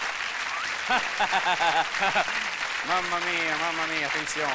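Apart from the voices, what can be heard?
audience applause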